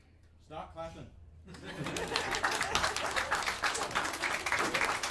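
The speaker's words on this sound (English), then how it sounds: "Start clapping." A comedy crowd breaks into applause after a brief voice, the clapping swelling into a dense, steady wash that carries on to the end.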